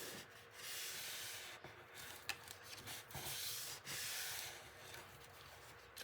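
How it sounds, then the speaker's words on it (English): Soft, steady rubbing with a wipe along a scored paper fold line on a mini folio envelope, a continuous faint hiss with a few brief scuffs, close up and quiet with no voices. "I'm just going to give that a bit of a rub with my"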